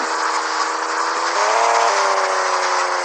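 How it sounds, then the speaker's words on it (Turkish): A car engine in the Stumble Guys video game hums in a steady, continuous drone with a slight pitch shift partway through, loud and close, without any speech. "Araba çok yavaş abi."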